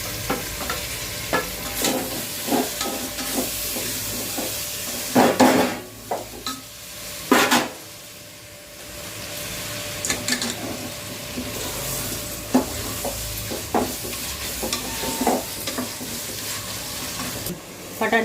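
Four small, medium-size tomatoes are stirred and fried in a pan for vegetable biryani, giving a steady sizzle broken by the scrape and clatter of a spoon against the pot.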